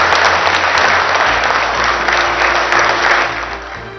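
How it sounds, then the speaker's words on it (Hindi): Loud, sustained applause from scientists at the ISRO command centre welcoming PM Modi, a dense wash of many hands clapping at once that eases slightly toward the end. "वैज्ञानिकों ने 5 मिनट तक ताली बजाकर उनका स्वागत किया"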